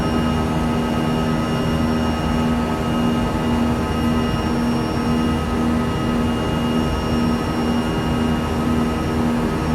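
Airbus A320 jet engines from a flight simulator sound pack hum and whine as a steady, loud, continuous drone with a sustained tonal note and no talking.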